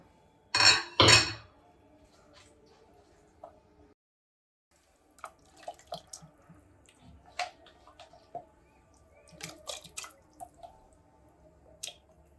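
A couple of loud clattering splashes as goat bones drop into boiling water for mutton soup, then quiet simmering with scattered soft clinks and drips of a pot on the boil.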